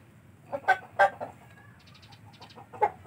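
Several Aseel Parrot chickens gathered in the late afternoon, with one hen among four roosters, give short clucks in separate bursts at close range, with quieter clucks and chirps between them.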